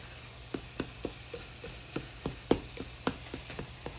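Milk gravy cooking in bacon grease, a low quiet simmer with soft bubbling pops and faint spoon scrapes recurring every half second or so against a hum.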